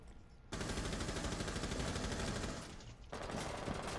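Automatic gunfire from Rainbow Six Siege, a dense, loud, continuous rattle of rapid shots that starts abruptly and runs without a break, easing briefly before surging again.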